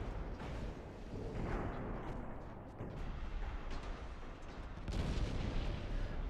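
Naval gunfire rumbles through a Dreadnoughts-era sea battle in Ultimate Admiral: Dreadnoughts, a dense, continuous low roar of distant artillery with a louder swell of firing near the end and no talk.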